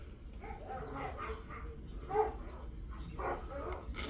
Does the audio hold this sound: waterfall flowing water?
no